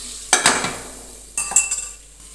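Onions and potatoes sauté in a pan, with two bursts of spoon stirring and metal clinks against a soft sizzle, close by, each burst fading back into the quiet frying.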